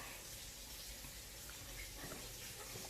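Kitchen tap running steadily into a sink while cooking, a continuous faint hiss and splash of water with no talk.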